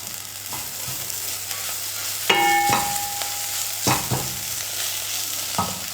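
A spoon scrapes and stirs sautéed onion masala with chopped coriander in a hot pan on a stove, with a soft steady sizzle under a few sharp metallic knocks and scrapes.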